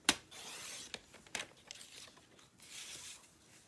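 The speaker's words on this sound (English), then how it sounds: "I'm getting out my trimmer, my indispensable trimmer, and I'm going to cut" Paper being cut on a paper trimmer: a sharp slicing swipe at the start, then a couple more quick rasping strokes and soft paper rustles, faint and close.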